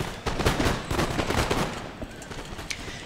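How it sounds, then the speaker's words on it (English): Line infantry musket volleys crackle from a Napoleon: Total War battle, a dense spread of overlapping shots rolling on through the whole stretch, loudest early and thinning slightly toward the end. "You can see my line infantry returning fire there"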